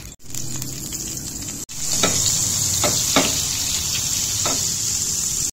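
Butter melting into refined oil in a hot pan, giving a loud continuous sizzle with a few clinks and stirring knocks, and no talking over it.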